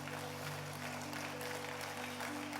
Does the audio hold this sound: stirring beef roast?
no